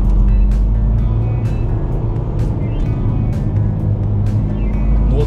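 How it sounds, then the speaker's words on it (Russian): A BMW X3 crossover driving in sport mode with its engine held at high revs instead of shifting up, a steady loud drone heard from inside the car, with some intermittent clicks and noises over it. "когда в спорт-режиме едешь, он, слышишь, не переключается, да? Держит обороты."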